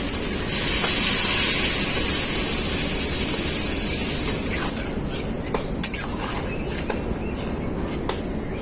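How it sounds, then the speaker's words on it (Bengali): Water poured into a hot pan of frying spices and taro, setting off a loud, close hiss and sizzle that swells at first, then settles into steady bubbling with small pops and clicks. "এখন ঝোল করার জন্য পরিমাণ মতো জল দিয়ে দেবো"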